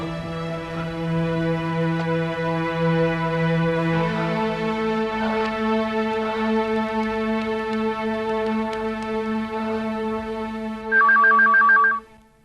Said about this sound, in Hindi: अरे कोई फोन उठाओ।